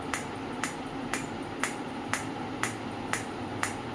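A PEMF loop therapy machine running at intensity 4 gives off a steady train of crisp clicks, about two per second, evenly spaced over a constant noisy hiss.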